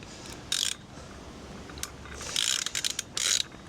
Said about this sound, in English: And we'll do up the nuts.